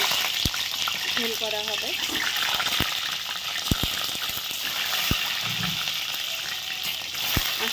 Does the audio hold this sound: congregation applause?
no